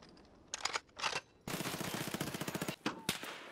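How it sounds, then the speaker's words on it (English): Bursts of automatic gunfire in the shooter Escape from Tarkov: two short volleys, then a longer rapid string of loud shots with a few trailing single cracks, close and sharp. "We're getting shot."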